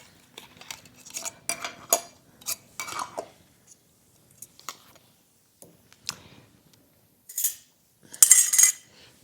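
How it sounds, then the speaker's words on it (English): Metal lids are set onto hot glass canning jars of Louisiana red beans, giving a series of light clinks and taps separated by quiet pauses, with a sharper metallic rattle near the end. "Putting on the lids."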